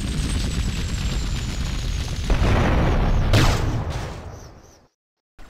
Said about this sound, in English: using rockets and machine gun fire to sweep through the windows and kill his guards